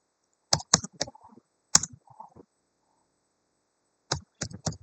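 Bursts of crisp keystrokes on a computer keyboard while typing commands in a terminal, close and clear, arriving in short clusters separated by silent pauses.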